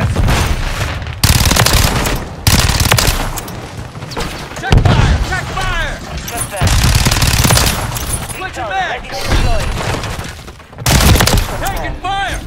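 Intense gunfire in a Call of Duty: Modern Warfare II night mission, with SCAR-L and KRISS Vector rifles firing loud automatic bursts and booms close by while soldiers shout over the shooting.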